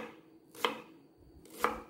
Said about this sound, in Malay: kita akan potong bawang besar menjadi cube-cube macam ni.